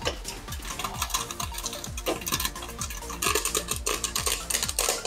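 Sugar popcorn pops in an open pot on the stove, with brisk, repeated sharp pops and ticks mixed with faint sizzling and scraping, close and continuous with no voices.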